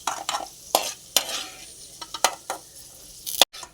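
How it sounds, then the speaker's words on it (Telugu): Cashews and raisins fry and are stirred in a pan over low heat, with sharp, repeated scraping and clinking strokes over a soft, steady sizzle, close and fairly loud, with no voices. "సిమ్లో పెట్టుకొని మట్టికి వేయించుకోవాలి కిస్మిస్ జీడిపప్పు"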